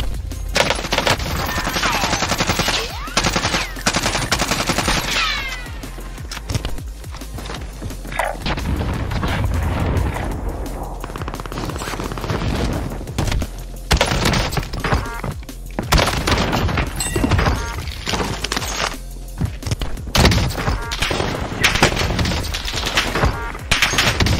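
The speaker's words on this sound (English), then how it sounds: "I'm gonna watch the kill cam on that." Dense video game gunfire plays in a killcam replay: rapid automatic bursts, single shots and booming impacts pile up almost continuously, loud and close, with no voices over it.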